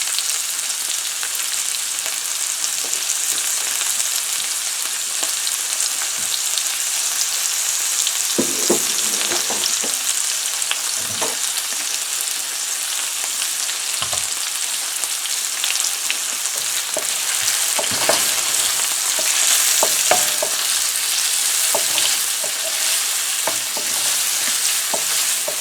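Egg noodle ingredients with seafood fry over high heat in a hot pan, a continuous bright sizzle with scattered scraping and stirring knocks, close and steady throughout.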